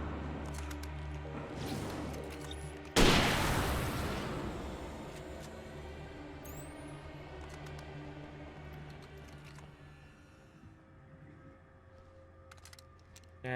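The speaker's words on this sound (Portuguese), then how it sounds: "para de atirar nele, velho" A single loud gunshot in the Alan Wake video game lands sharply about three seconds in and decays slowly into a long rumbling tail, set against quiet ambient game sound, with no voices.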